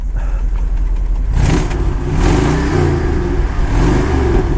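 A 1963 Lincoln Continental with dual exhaust revs loudly and close by outdoors in the rain, a rumbling idle swelling into repeated throttle blips.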